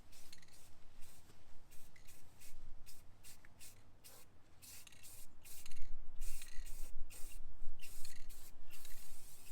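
Spray paint hisses in quick, uneven bursts, light first coats going onto an old wrought iron gate faded gray from the sun, the aerosol steady and close with no voices.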